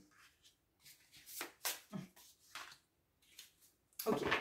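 A tarot card handled and flipped over, soft papery swishes and light slaps in short bursts, close and quiet, ending with a louder rustle.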